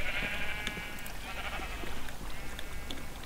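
Sheep at a video-game sheep farm bleat repeatedly, several short, overlapping baas over a busy game-audio background, close and fairly loud.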